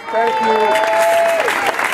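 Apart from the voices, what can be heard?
audience applause for the DJ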